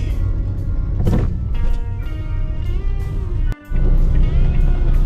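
Steady road traffic hums from inside a moving car crossing a bridge near a mall entrance in the Philippines, with engine drone, passing vehicles and a brief dropout near the end.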